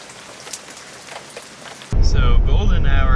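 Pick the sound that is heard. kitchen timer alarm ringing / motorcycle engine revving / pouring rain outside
pouring rain outside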